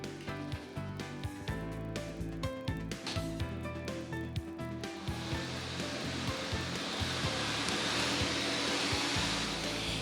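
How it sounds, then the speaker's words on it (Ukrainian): A lottery drawing machine starts up after music, its air blower rising into a loud, steady rushing roar as the balls are mixed, filling the second half of the clip. "Вмикаємо лототрон."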